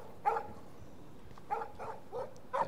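A dog barks in the video game Life is Strange, giving three short, moderately loud barks spaced roughly a second apart against a quiet background.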